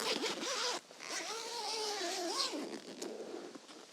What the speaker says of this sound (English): Get your one zip at the front.